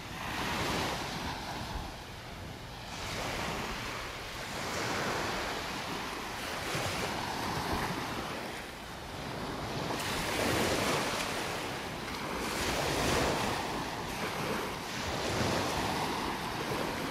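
Ocean waves roll onto the beach at Del Nor-Wiggins in North Naples, Florida. The surf is a steady, broad wash that swells and recedes, with wind noise on the microphone and no voices throughout.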